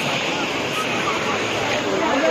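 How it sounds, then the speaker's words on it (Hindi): A powerful waterfall at Bisalpur dam in Rajasthan roars as a dense, steady, broadband wash of falling water, loud and close for the whole stretch, with faint voices mixed in. "तो गाइस काफी तगड़ा वाटरफॉल हो रहा है इधर"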